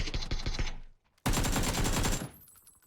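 Automatic gunfire in PUBG on the new Haven map: a loud, close volley of rapid shots, a brief silence, then a longer sustained burst that cuts off abruptly.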